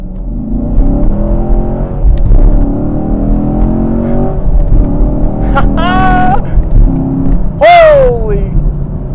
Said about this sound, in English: Setting off in the Camaro